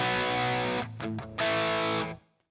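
An Enya Nova Go Sonic electric guitar on a train effect preset: a thick, processed chord rings, is briefly choked into two short stabs, then rings out again before fading, with no talk.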